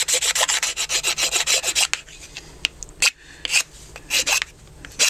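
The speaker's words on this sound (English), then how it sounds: "use this knife just as a scraper" A knife used as a scraper smooths a hand-carved wooden spoon in a quick series of rhythmic raspy strokes, close and crisp, followed by a few slower, scattered scrapes.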